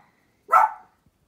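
A small female dog gives a single short, sharp bark close by, alone in an otherwise quiet room.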